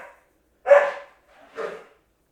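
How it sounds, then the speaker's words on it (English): A female dog barks twice in the quiet, a sharp close bark followed by a slightly softer second one about a second later. "my dog be going crazy for no reason."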